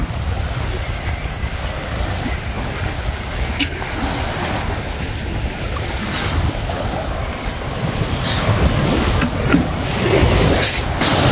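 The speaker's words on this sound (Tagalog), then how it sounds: "Napakalakas po ng alon." Heavy ocean surf in the Bicol region of the Philippines pounds continuously with a deep rumbling roar, wind buffeting the microphone, the waves swelling louder toward the end.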